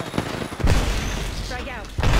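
Heavy gunfire and explosive booms in an Apex Legends match, close and loud, with a shifting whine in between and a voice talking over the action.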